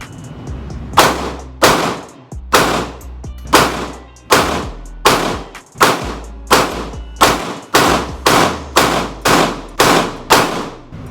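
An M&P 9 Shield EZ pistol fires at a shooting range: about fourteen loud, close gunshots at a steady pace, each a sharp crack with a short ringing tail.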